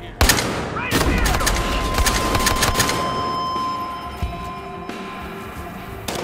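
Shotgun fired point blank in Battlefield Hardline: a loud, close blast opening a burst of rapid gunfire, then ringing and tapering game ambience under a faint hum.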